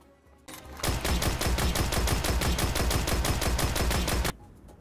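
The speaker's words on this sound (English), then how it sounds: "Let me show you how fast I can fire the Suros by tapping it." Rapid tapped shots from the SUROS Regime auto rifle in Destiny, an even machine-like burst of about thirty loud close reports over three and a half seconds that then stops abruptly.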